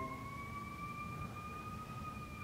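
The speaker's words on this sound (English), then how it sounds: "there's like a fire engine station just next to us, so that's why we're getting the noise a little bit" A distant fire engine siren wails with a steady, slowly wavering tone over low traffic rumble.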